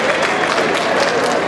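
Audience applause at a bull tournament in Tamazulapan, a short, loud wash of crowd clapping, dense and sustained across the moment.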